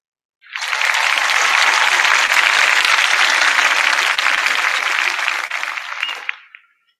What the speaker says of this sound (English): let us hear one final big round of applause for our winners